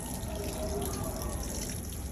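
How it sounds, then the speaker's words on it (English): Water pouring from a watering can onto plants in a warm greenhouse, a steady close splashing trickle that runs through the whole moment without talk. "I'm going to water"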